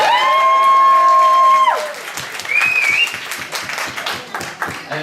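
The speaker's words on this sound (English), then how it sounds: "My round of applause" A room of wedding dinner guests breaks into sustained applause, loud and dense clapping that thins out over a few seconds.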